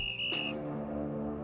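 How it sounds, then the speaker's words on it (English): A single shrill referee's whistle blast at an ice hockey game in a story video game, a short steady high tone that cuts off, followed by a low held musical drone. "As the whistle sounds and the team skates off the ice for a break"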